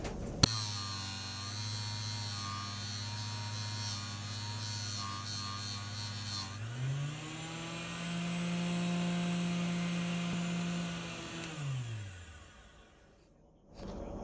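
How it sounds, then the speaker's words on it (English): A fabric buffing wheel polishing the brass bolster of a Buck 112 pocket knife hums steadily. Its pitch drops and loading deepens when the brass is pressed against the wheel, then it spins down at the end. "I'm gonna try to get that out of there with this my fabric wheel here."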